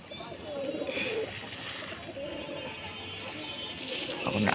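Pet pigeons in a loft coo softly while feeding, low repeated murmurs against a steady background, with a person talking nearby.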